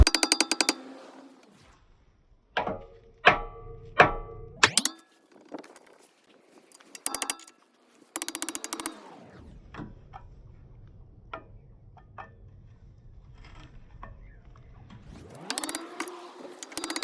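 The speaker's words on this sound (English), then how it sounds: "I'm just going to have to get the hammer in there and literally just hammer them off" A hammer striking to free seized rear brake pads on a 2017 Kia Picanto: sharp metallic clinks, some in quick bursts and others spaced out, with quieter scraping and rattling between strikes.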